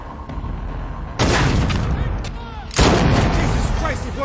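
Gunfire in a shooting video game, with two heavy, booming shots that each open a sustained burst of noise, the second louder and coming after a short gap.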